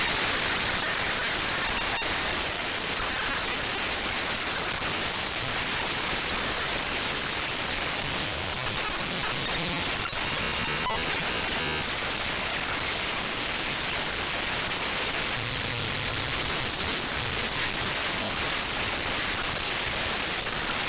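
Raw data played back as audio comes out as loud, dense, unbroken static hiss, a flat wash of noise with little variation throughout.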